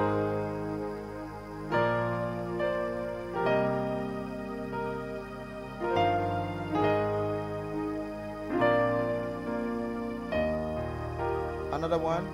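Piano playing the introduction to the worship song Most High by Dunsin Oyekan, with sustained chords changing every second or two in a steady, moderately loud progression, with no talking over it.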